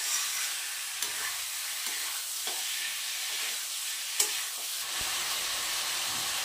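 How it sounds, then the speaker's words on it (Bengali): Meat sizzles steadily in a hot pan with chilli powder added, a continuous close frying hiss broken by a few soft stirring scrapes and one sharp spatter, with no talking. "মাংসটাকে একটু ভেজে নিই"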